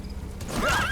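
D-Horse, the horse in the video game Metal Gear Solid V, gives a single loud, close whinny that rises and wavers after a short stretch of quieter ambience.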